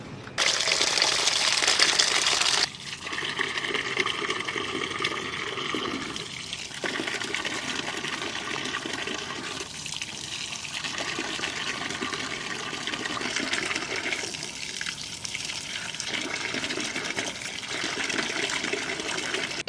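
Hot water streams and splashes steadily while stingray fish are washed in a kitchen, a continuous gushing pour with brief breaks and shifts in flow and faint crinkling handling sounds.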